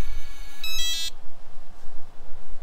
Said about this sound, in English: it gives you a long beep